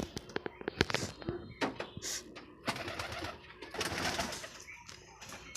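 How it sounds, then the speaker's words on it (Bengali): Pigeons coo and call close by inside a pigeon loft, with scattered wing-flutters and shuffling, a busy, uneven chorus of bird sounds without speech. "যেখানে কবুতর আছে সবই ওড়া ওড়া করতেছে।"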